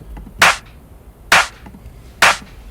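Three sharp layered clap samples from a beat hit one at a time at an even, unhurried interval. Each is crisp and bright with a short tail, and no other sound plays between them.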